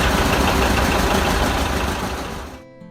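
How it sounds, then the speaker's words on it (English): A John Deere 730 tractor engine running, a close, loud, throbbing chug that holds steady and then fades out abruptly near the end, with no talk over it. "is there one that makes your heart flutter like the pop-pop of a John Deere 730?"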